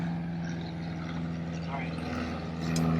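The engine of the world's smallest twin airplane idles with a low, steady droning hum that swells slightly toward the end, while people talk nearby.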